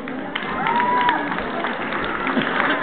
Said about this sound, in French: Faut y aller pour les applaudir.